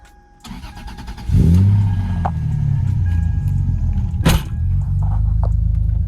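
A car with an idling fault starts with a sharp crank and settles into a loud, steady engine rumble, with a brief rev near the end and no talking.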